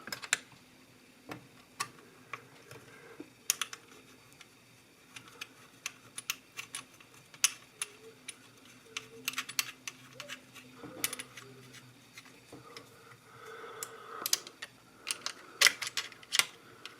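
Sharp, irregular clicks and small metallic ticks come from close by as the last screw is driven in during reassembly of a Singer 414 sewing machine, scattered over a quiet background.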